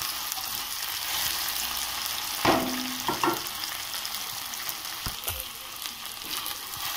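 Rice sizzles in a hot pan as it is dry-fried, a steady close hiss broken by a few scraping stirs of a spoon.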